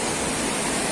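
Water gushing out of a hole in the ground makes a steady, loud, broadband rush that continues unbroken without any talking.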